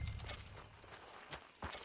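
Horse hooves clip-clop in Red Dead Redemption 2, a few quiet, evenly spaced hoofbeats on a low game soundscape, with no talking.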